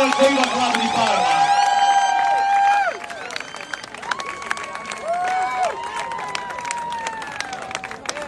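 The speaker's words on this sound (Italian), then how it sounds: "un grande applauso ai ballerini" Audience at a Latin club clapping and cheering for salsa dancers, loud crowd noise with whistles and shouts that thins out after a few seconds into scattered cheers.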